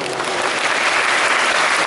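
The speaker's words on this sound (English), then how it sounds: "On peut l'applaudir." Large convention audience at a Paris Manga panel applauding an actor, a thick, even roar of many hands sustained throughout.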